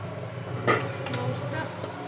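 Marinated chicken coated in spices is stir-fried in a pan for a Bengali Dak Bungalow chicken, giving a steady close sizzle with a louder scrape and clatter of the spoon against the pan near the start.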